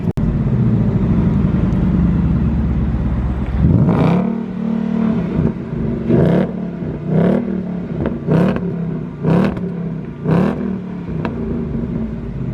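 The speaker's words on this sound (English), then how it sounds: "So we're just getting a little demo here of the exhaust." A 450bhp V8 Mustang exhaust idles with a deep, loud rumble, then is revved in a series of sharp, repeated blips close up.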